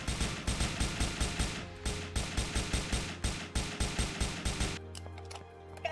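Rapid automatic gunfire from the video game Gears of Babies rattles in fast, rhythmic bursts with a brief pause, then stops abruptly, leaving quieter game sounds.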